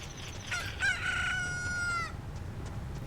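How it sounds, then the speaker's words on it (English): In Ocarina of Time, a chicken hatches from an incubated egg and crows in a single loud, drawn-out cock-a-doodle-doo that rises and holds, then stops and leaves game background noise behind it. "A chicken hatched from the egg you were incubating."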